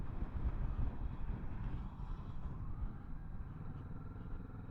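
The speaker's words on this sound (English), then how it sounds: "Engine brake is doing all the work right now." Kawasaki Vulcan S 650 motorcycle slowing under engine braking on the ride home from a dealership, a steady low engine drone mixed with heavy wind buffeting at the microphone, loud and continuous with no talk.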